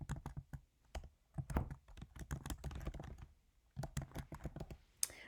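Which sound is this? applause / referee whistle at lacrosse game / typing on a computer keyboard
typing on a computer keyboard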